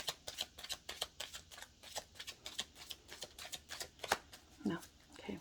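Tarot cards are shuffled repeatedly in quick riffling bursts, close and fairly quiet, with a brief voice near the end.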